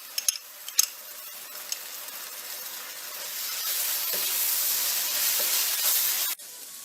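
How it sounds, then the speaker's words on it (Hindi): Onions sizzling and frying in a pan with garlic-ginger paste just added, a steady close hiss that builds and grows denser, with a few clinks of stirring early on before it cuts off abruptly. "5 मिनट्स हो गए ऑनियन को फ्राई करते हुए। ये लहसुन अदरक की पेस्ट डाल के 1 मिनट कर लेते हैं।"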